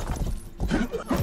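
Hooves clip-clop from a fast horse in the Rustler video game, a quick run of close, loud hoofbeats with a brief whinny-like tone.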